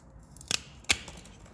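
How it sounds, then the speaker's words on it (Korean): ARS pruning shears snip through a branch in two sharp, crisp cuts about half a second apart, close up over a quiet background. "그 다음에 이제 아르스 가위로 잘라보면"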